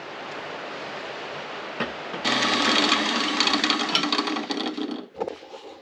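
Metal being cut away on a daily-driver rat rod to recess a bolt head for pedal clearance, a loud steady grinding-cutting roar that starts abruptly about two seconds in and runs several seconds before stopping, preceded by quieter shop noise.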